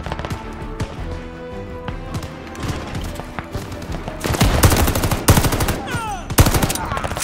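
Gun firing in Call of Duty: Vanguard during a WWII desert mission at Tobruk, sparse shots giving way to loud, rapid automatic bursts with clattering, close and intense, mixed with battle noise.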